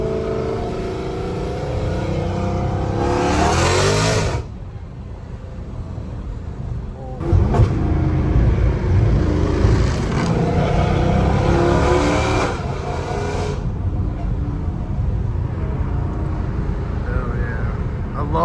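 A Dodge Hellcat Redeye fitted with an aftermarket intake, driven on city streets: a loud engine that revs and pulls hard in bursts and surges between calmer cruising stretches, heard up close from inside the car.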